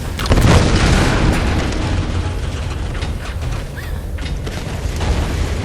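A loud video game explosion bursts out early, then a long rumbling roar of debris and crackling, with another smaller blast later on.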